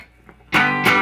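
An electric guitar played through a distortion pedal gives two quick, harsh, saturated strums in close succession after a moment of near silence, loud and close.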